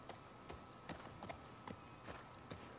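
Horse hooves clip-clopping at a walk while ridden in The Last of Us Part 2, about six evenly spaced soft hoof strikes over low ambient background, no talking.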